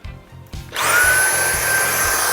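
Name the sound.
Dyson V8 Fluffy handheld vacuum cleaner running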